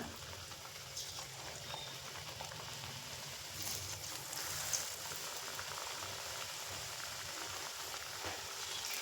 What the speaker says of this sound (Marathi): तर इथं पाहू शकता मी हळू असं तेलामध्ये सोडते